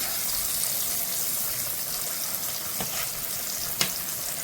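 Okra sizzling steadily in a frying pan, a broad continuous hiss with two brief clinks of stirring or turning near the end, no voices.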